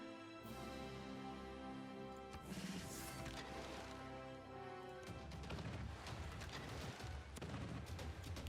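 Strafe attack gunfire in Civilization 6 comes as a dense run of quiet explosive cracks and booms over game music, with sharp hits clustered early and again in the last few seconds.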